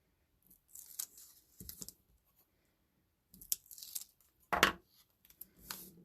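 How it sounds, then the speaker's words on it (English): Backing peeled off adhesive tape with a pick tool spatula while making a paper card, giving soft close crinkling and tearing rasps in several short bursts separated by quiet gaps. "take the backing off the tape"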